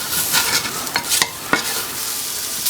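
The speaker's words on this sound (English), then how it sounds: "Well, the beef is browned some, this last batch." Chuck roast beef browns in oil in a pan over medium-low heat, a close, steady sizzle punctuated by a few sharp scrapes and taps of a utensil, with no talking.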